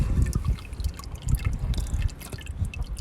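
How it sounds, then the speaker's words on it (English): Warm motor oil dripping from a drained Subaru Impreza WRX engine during an oil and filter change, with close, irregular drips and splashes that continue throughout. "Oh, it's dripping down my arm."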